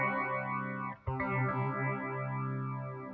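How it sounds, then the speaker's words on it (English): A sustained synth tone passes through a vintage Moogerfooger 12-stage phaser and sweeps slowly up and down. It plays near and steady, with one short dip and a thump about a second in. "There's another switch here that lets me swap it over to 12 stage."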